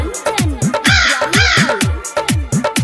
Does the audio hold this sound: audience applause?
no